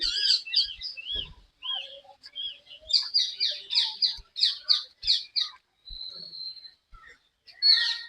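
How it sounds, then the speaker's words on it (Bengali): Birds call in repeated, high, squawky chirps around an old temple, with calls coming in irregular bursts, some close and some farther away, and no one talking over them. "তখন আপনি শত শত টিয়া পাখির ডাক শুনতে পাবেন"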